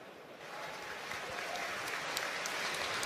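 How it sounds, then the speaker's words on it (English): Steady, distant crowd applause fills Old Trafford stadium during a Manchester United versus Swansea football match as an injured player leaves the pitch, a broad wash of clapping with no voices above it. "There's a generous applause around Old Trafford as Shaw departs the scene"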